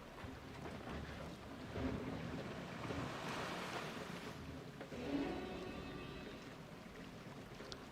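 Water rushes and splashes on a river rapids ride in the Planet Coaster video game, a continuous wash of surf-like noise with gentle swells and no talking.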